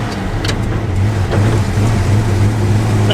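Worn, clapped-out Ford F250 pickup engine while driving, a steady low rumbling drone with rough, heavy-truck character that holds at one level throughout, close and loud.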